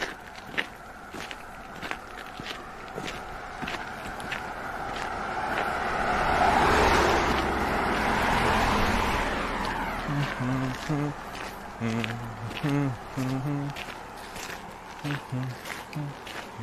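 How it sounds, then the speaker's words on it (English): A car passes on a road, its broad wash swelling from faint to a near peak and then fading away, heard outdoors while a person walks and talks and hums nearby. "Here comes a car,"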